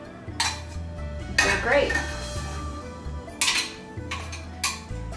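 Tofu cubes being stirred in a pan with added liquid, a utensil scraping and clinking against the metal in several bursts, with brief speech near the middle.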